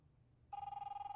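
A telephone rings in the video game The Wolf Among Us, beginning abruptly after near silence with a rapid trilling electronic bell, loud and close with no speech.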